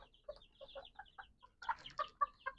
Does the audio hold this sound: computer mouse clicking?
no